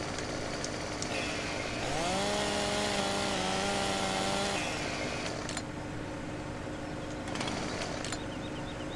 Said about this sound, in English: the only way I can do it is chainsaw it up here